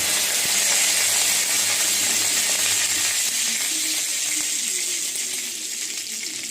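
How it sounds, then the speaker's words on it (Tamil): Mustard seeds splutter in hot oil in a kadai, a loud bright crackling hiss with scattered pops that eases slightly toward the end, no speech. "கடாயில் எண்ணெய் ஊற்றி கடுகு போட்டிருக்கேன்."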